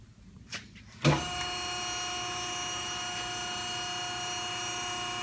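A torque converter lockup tester machine starts with a sudden thump after a couple of quiet clicks, then settles into a steady, whining electric hum with high tonal overtones, running alone without talk.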